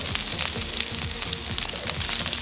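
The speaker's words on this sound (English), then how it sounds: "we want to get that sizzle, that sear" Steady hiss and crackle of sausage sizzling in a smoking-hot pan, close and continuous, with small popping spatters throughout.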